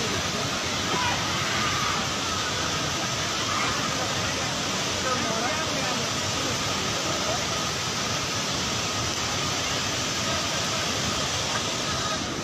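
A river in sudden flash flood roars as a dense, unbroken rush of water, loud and steady throughout, with no pauses or distinct events.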